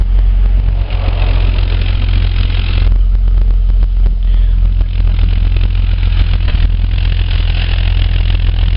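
A Holden VS Commodore engine idles with a misfire, running loud and close with a rough, uneven pulsing throughout and no talk over it.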